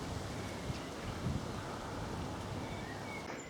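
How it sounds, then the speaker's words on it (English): Wind blows across open Cotswolds valley countryside on a walk near Moreton-in-Marsh, a steady, faint rushing noise with slight gusts and no other sounds. "Wind's picking up."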